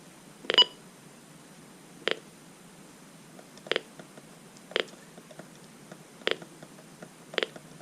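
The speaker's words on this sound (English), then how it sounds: "I do like the button beeps on this radio" Six short electronic button beeps from a Reecom R-1630 radio sound one at a time at irregular intervals, crisp and fairly quiet over a near-silent background.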